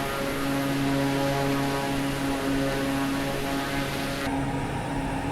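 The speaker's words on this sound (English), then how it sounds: "The propeller slipstream effect on takeoff, very, very strong in this aeroplane" A propeller aeroplane in Microsoft Flight Simulator roars steadily at takeoff power, a loud continuous engine drone with a strong tonal hum and airy hiss, no voices, dropping slightly in brightness near the end.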